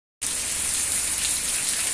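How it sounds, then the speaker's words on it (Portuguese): Heavy rain falls steadily after a brief silent start, a constant hissing wash of drops hitting surfaces nearby. "Que chuva maravilhosa."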